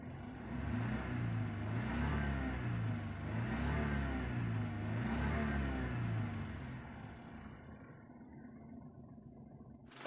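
A car engine revs up and down in repeated swells while its contact points are adjusted, rising and falling several times before settling to a quieter idle.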